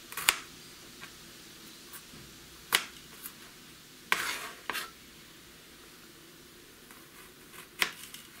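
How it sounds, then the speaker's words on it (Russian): Sparse sharp knife taps against a cutting board as garlic is thinly sliced, a few isolated cuts spread out with quiet pauses between them. "чеснок режем пластинами тонкими"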